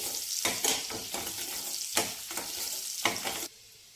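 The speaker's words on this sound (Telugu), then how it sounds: "షాజీరా కొద్దిగా బిర్యానాకు కొద్దిగా ఆవాలు జీలకర్ర కొద్దిగా వేసుకోవాలి ఇవన్నీ కూడా వేగి అంతవరకు వేయించుకోవాలి" Whole spices (shahjeera, bay leaf, mustard seeds and cumin) fry in hot oil for an Indian egg curry, giving a steady close sizzle with a few stirring scrapes, then stopping abruptly near the end.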